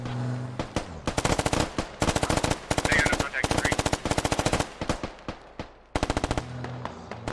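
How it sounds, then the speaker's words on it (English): Automatic rifle fire in the tactical shooter game Squad, rapid sustained bursts of loud close gunshots rattling in long strings with brief pauses between volleys. "starting to take some shots"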